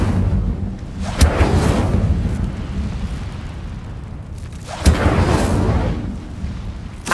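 Incendio fire spell cast in Hogwarts Legacy, two loud whooshing bursts of flame, one near the start and one about midway, each followed by a rumbling, crackling roar that fades away.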